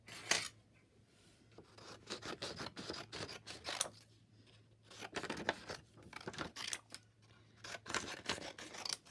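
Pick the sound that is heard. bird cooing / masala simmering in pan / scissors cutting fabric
scissors cutting fabric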